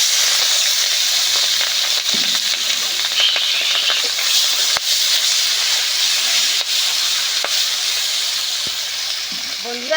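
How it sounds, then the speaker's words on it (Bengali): Fish fat frying in hot oil in a wok, a steady close hiss and sizzle that runs evenly throughout with small crackles and no talking. "কড়া গরম হয়ে গেছে, এখন তেলপোঁটা ভেজে নেব"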